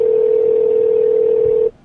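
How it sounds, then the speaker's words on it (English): A single steady electronic telephone tone holds for under two seconds, then cuts off abruptly, leaving quiet background. "That's the phone ringing."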